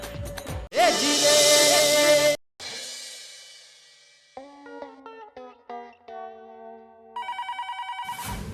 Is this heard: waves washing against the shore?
no